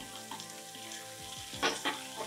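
Chopped vegetables and tomato frying in a pan for a vegetable egg omelet, giving a steady close sizzle with a few louder bursts of stirring scrapes near the end and no talk.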